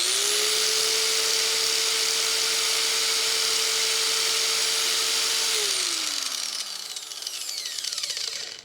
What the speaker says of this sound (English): Definitely can handle a 300 watt angle grinder.